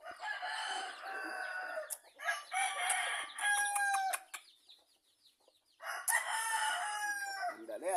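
A native gold fighting rooster, six years old, crows repeatedly at close range, with long harmonic calls separated by a short quiet gap, and clucking sounds in between.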